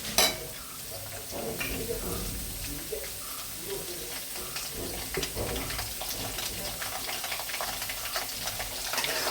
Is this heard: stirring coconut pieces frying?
yes